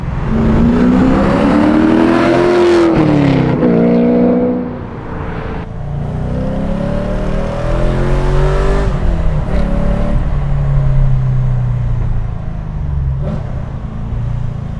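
An LS V8 engine in a BMW E36 M3 revs hard and loud during heel-toe downshifts, rising and falling in pitch through quick blips as gears change, with a steady rumbling drone between.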